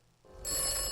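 An old-style telephone bell in the video game Atomfall starts ringing abruptly and keeps going at a steady, moderately loud level, with no one talking.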